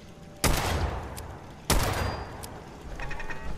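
Two loud, sharp gunshots in Fallout 4, spaced about a second apart, each cracking sharply and trailing off in a short echo, with faint ambient game sound between them.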